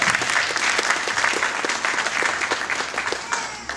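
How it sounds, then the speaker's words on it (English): Audience applause after a business presentation, a dense, steady patter of many hands clapping close and loud throughout, with no talk over it. "You should give yourself a round of applause for that."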